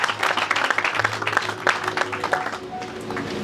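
A church congregation applauding to acclaim the Lord at a young prophets' gathering, steady mid-distance clapping mixed with voices and cheering.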